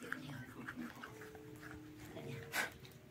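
Australian shepherd dog whimpering softly and panting nearby, faint thin whines scattered through a low, quiet background with a brief louder rustle near the end.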